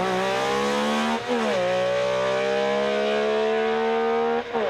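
A 2003 WRC rally car on an Irish rally stage, its engine screaming loud and close in sustained high revs, pitch dipping briefly at each gear change before climbing again.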